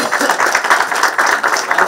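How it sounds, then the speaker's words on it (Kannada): An audience at a televised Kannada entertainment event breaks into loud, sustained clapping that fills the whole moment without pause. "ಜೋರಾದ ಚಪ್ಪಾಳೆ ಬರಲಿ."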